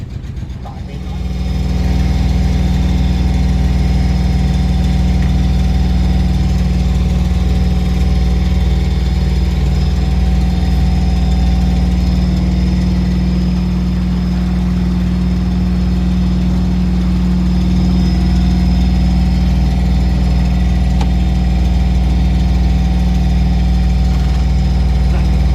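Boat engine on a river cruise near Wroxham on the Broads running steadily after the throttle is pushed, a loud continuous low drone with mid-range hum throughout, a voice heard faintly over it.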